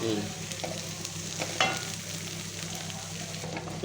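Onions and tomato sauté in a pan for Indian-style mutton fry, giving a steady close sizzle with a few scrapes of stirring and one brief clatter.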